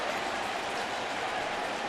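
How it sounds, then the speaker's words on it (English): Baseball stadium crowd cheering and clapping through a long at-bat in a Phillies–Mets game, a dense, even wash of distant noise with no single voice standing out. "the crowd's starting to get in it now"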